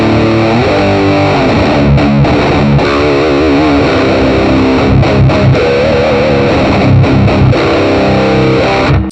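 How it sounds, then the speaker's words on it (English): Electric guitar played through the Orange-style ORTH200 channel of a JOYO Preamp House, giving loud, thick, loose distortion with sustained heavy chords and riffs that ring continuously with no talking. "the distortion is a little bit looser than the other preamps that we have tried so far"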